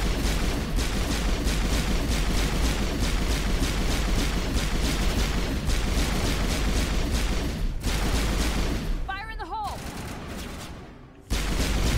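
Mass Effect combat with grenades going off amid a dense, continuous rattle of gunfire and blasts, loud and unbroken for most of the stretch before a brief lull and a sharp resumption.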